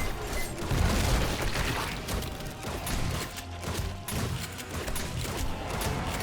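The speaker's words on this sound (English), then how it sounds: "It looks like most of our things survived that explosion." Loud, dense bursts of in-game explosions and crashing debris from 7 Days to Die, with rolling booms and mechanical clatter filling the scene continuously, no one speaking.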